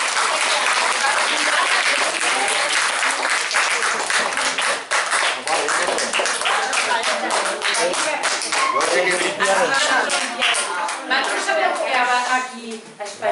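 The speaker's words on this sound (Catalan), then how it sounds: "Estos niños merecen un aplaudimiento" A crowd claps steadily for a group of children at a community event, dense sustained applause filling the whole stretch, loud and close, with a few voices mixed in under the clapping.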